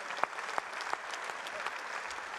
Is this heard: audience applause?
yes